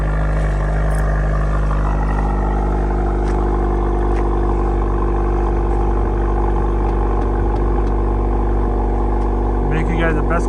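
A Honda Accord 2.0T with a Borla cat-back exhaust idles steadily with a deep, close rumble, a few clattering ticks on top, while people talk nearby.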